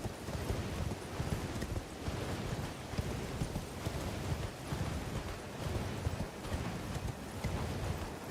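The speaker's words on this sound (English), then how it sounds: "Take your time getting off the horse, mate, why don't you?" Horse hooves clip-clop rhythmically in the video game Elden Ring, a steady galloping beat heard close and fairly loud over a dense rumbling backdrop.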